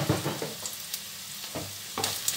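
Chopped onion sizzles and crackles in a hot pan as it is sautéed for a vegetable dish, loud and close, with occasional stirring scrapes and no talking.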